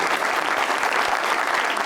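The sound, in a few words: studio audience applause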